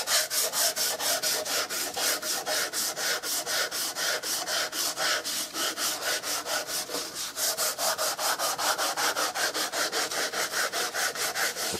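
Steady back-and-forth strokes of a straight sanding block on a wooden Remington 788 gun stock, a fast even rhythm of rasping rubs repeating close by through the whole stretch with no talk.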